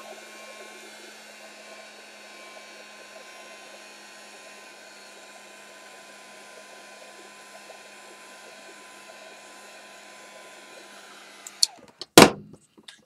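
A hair dryer blows with a steady, moderate hum while drying a craft piece that was just rubbed down with a baby wipe. A few sharp clunks and knocks come near the end as it is switched off and set down.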